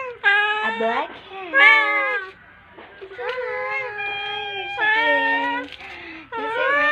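A black cat meows repeatedly in close, loud, drawn-out cries with short pauses between them, a run of five or six calls.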